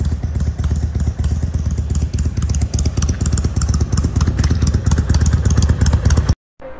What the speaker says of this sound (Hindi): तो गाइस बड़ी मुश्किल से करी है बाइक स्टार्ट